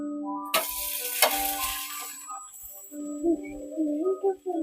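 Dosa batter cooks on a pan over a gas stove at medium flame, giving a soft, close sizzle that swells in bursts, with a faint steady tone and light clinks of handling.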